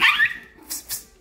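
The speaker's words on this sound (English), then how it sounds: "It's my little house dogs." Small house dogs bark in a short burst of two or three sharp, close yips at the start, followed by a couple of fainter barks, with no talking over them.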